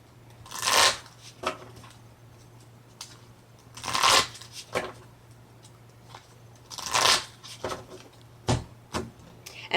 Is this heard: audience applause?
no